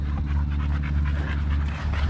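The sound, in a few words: Cane Corso puppies panting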